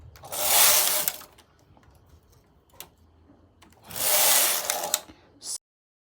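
Knitting machine carriage pushed across a row while machine knitting baby socks, two loud rasping mechanical sweeps separated by a quieter pause with faint clicks, followed by a short final burst.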